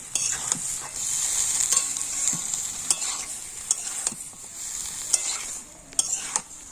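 Potatoes and peas being stirred into a sizzling spice masala in a pan, a steady frying hiss with repeated scrapes and taps of a spoon against the vessel, fairly close.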